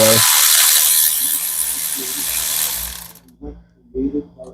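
A ratchet loosens 10 mm nuts and bolts on a Can-Am, a fast continuous buzzing click for about three seconds, then a few slower separate clicks and handling noises nearby.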